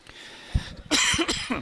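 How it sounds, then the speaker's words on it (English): A few sharp coughs: one short burst, then a louder harsh cough followed by two more, close and clear against a quiet background. "I thought my cough was going away in the last couple of days"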